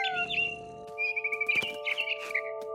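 A mother bird chirps in the video game What Remains of Edith Finch: a quick string of bright, high tweets over a steady sustained musical tone, close and clear.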